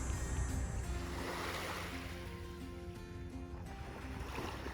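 Waves wash steadily onto a beach in North Chicago, a continuous close surf rush with no voices.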